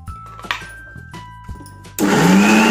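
A kitchen mixer grinder grinds dry coconut pieces with garlic, first in short stuttering pulses, then bursting into a loud, steady whir near the end.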